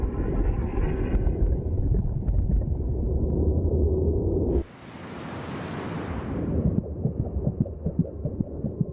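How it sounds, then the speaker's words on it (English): Deep, muffled rhythmic heartbeat thuds heard from inside the womb pulse steadily beneath a dense whooshing wash, then a brief hissing swell interrupts before the throbbing beat resumes. "she can also hear the competing thud of heartbeats,"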